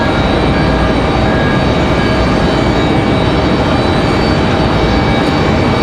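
A Republic Airways jet taking off at Raleigh-Durham gives a dense, constant engine roar with faint whining tones, loud and unbroken, with no voices.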